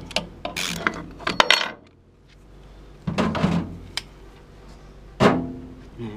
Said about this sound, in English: I use an extractor to extract the front pump.